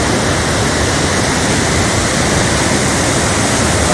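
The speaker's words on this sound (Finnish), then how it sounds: "Ajaillaan Kosken kuohuja." Spring rapids on the Pyhäjoki river in high water, a loud, steady broadband rush of churning whitewater filling the whole stretch without pause, with no voices over it.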